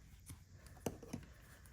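Scissors snipping off a yarn end on a small crocheted ghost, two faint, close, quick cuts in an otherwise quiet room.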